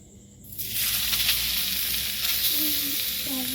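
Grated coconut frying in a little oil in a wok, a quiet start then a sudden loud hiss and crackling sizzle that swells and stays close and steady, with faint scraping stirs.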